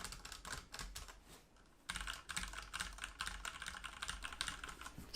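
Rapid typing on a Ducky One2 Mini keyboard with ABS keycaps, a dense close clatter of key presses that pauses briefly before resuming, with no talking.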